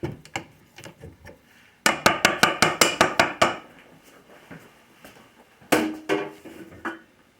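Spoon knocking rhythmically against a bowl while mandarin oranges are mixed into pineapple orange cake batter, a quick run of about ten sharp clinks followed by softer scraping and a final burst of taps, close and loud with no talk.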